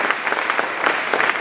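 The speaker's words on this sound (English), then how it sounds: "Let's give our second grade teachers a wonderful round of applause" Loud audience applause at a school Christmas performance, a dense burst of many hands clapping close by with no talk over it.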